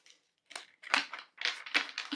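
Tarot cards being shuffled by hand, a series of close, crisp riffling and slapping bursts with short pauses between them and no talking.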